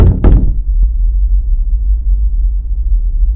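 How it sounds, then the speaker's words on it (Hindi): Knocking on a door late at night: two loud, close thuds right at the start, then a faint third tap, followed by a steady low rumble with no voices. "रात के तकरीबन 3:30 बजे किसी ने दरवाजे पर दस्तक दी।"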